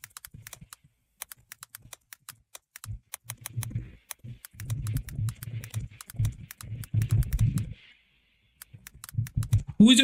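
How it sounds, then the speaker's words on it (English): Computer keyboard typing, rapid keystroke clicks running through most of the stretch with pauses, heard close up while a low voice murmurs underneath at moderate volume. "So this is him right now, typing and saying what he's saying in his description."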